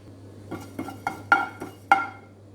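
Cumin seeds are stirred in a pan after fenugreek for a mint chutney, giving about five distinct metallic clinks and scrapes at a steady pace over a low hum, close and moderately loud.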